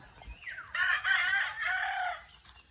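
A rooster crows once nearby, a rising then drawn-out call, with faint clucking around it.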